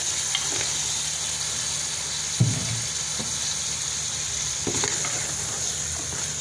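Goat trotters (paya) frying in a cooked spice masala, giving a steady soft sizzle throughout with one sharper burst of crackling as the pieces go into the pan.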